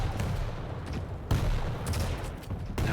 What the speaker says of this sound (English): It's actually those machine gun bullets hitting Anixovich.